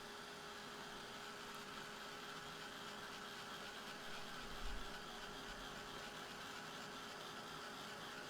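A heat tool drying paint on a handmade paper coin envelope runs as a steady, even whirring hum throughout, close by, with no talking over it.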